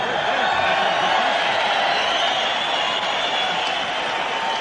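A large boxing arena crowd of thousands roars in a steady, dense wash of cheering and shouting, with someone talking over the din.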